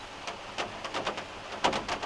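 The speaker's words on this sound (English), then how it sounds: "the rain is really starting to come down now" Heavy evening rain patters down during a hunt, with soft, irregular bursts of drops striking a nearby surface at low volume.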